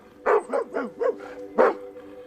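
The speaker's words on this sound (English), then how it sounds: "he hears the family dog, Shasta, barking and responds by barking back" A family dog gives a quick series of five or six sharp barks in an uneven rhythm, close and moderately loud, with a short pause before the last bark.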